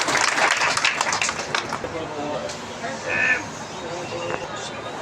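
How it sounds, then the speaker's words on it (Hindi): An audience at an association's office-bearer installation ceremony claps in welcome, a burst of applause that fades into crowd chatter and talking. "ताली बजा के स्वागत कीजिए।"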